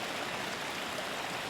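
A river meanders through a snowy glen in the Lost Valley of Glencoe, a steady broad rush of flowing water with no pauses and no voices.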